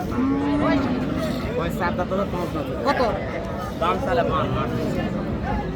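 Cattle moo repeatedly at a busy rural cattle market in Raniganj, their low calls rising above constant crowd chatter and people talking close by.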